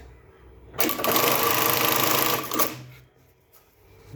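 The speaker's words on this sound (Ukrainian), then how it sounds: "пробуємо шити ниткою сороковкою капрон низ вверх" A Jack JK-T1900 bartack sewing machine stitches heavy nylon thread through layered webbing and tape, a loud rapid mechanical burst lasting under two seconds, then quieter whirring as it stops, with no talk.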